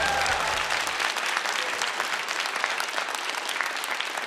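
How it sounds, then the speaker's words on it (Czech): An audience in a culture house concert hall in Jihlava applauds, a dense, loud wash of clapping that continues evenly after a short low tone fades at the start. "takhle tleská úžasný dům kultury v Jihlavě"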